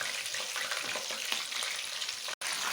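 Seekh kebabs sizzle steadily in a pan, a dense, even frying hiss with faint crackles running throughout, briefly cut off near the end.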